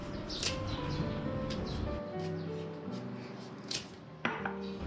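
A knife cuts bananas apart into single pieces on a surface, with several close, crisp taps and clicks over a steady background hum, with one sharper knock near the end.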